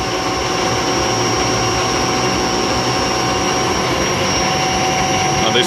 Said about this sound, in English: on the finishing pass I'm feeding backwards and feeding just a little tiny bit in, almost as little as I can move the wheel